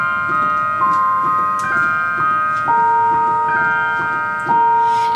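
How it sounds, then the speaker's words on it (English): A bright, high synth bell preset plays a slow melody of long sustained ringing tones, each note held and overlapping the next, loud and clear with no voices. "So that's the bells sound."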